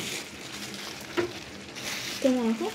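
Oil with a lump of ghee sizzles and crackles in a pan at the start of a béchamel, a soft close frying hiss with small clinks and stirring sounds, and a voice speaks briefly.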